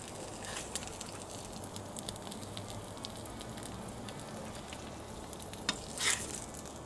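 Burger patties sizzle on a flat griddle with a soft, even crackling hiss that holds steady throughout, plus a brief scrape near the end.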